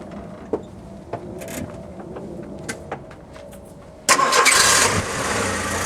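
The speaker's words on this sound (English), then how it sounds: "So we're going to fire this thing up and go for a little test drive." A 1929-style Shay replica of a Ford Model A Roadster with a four-cylinder engine, heard with a few light clicks and knocks before the engine abruptly catches and settles into a loud, steady idle.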